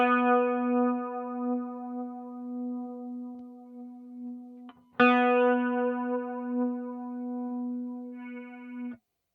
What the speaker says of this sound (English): Quite wobbly, and chorus is not my favorite effect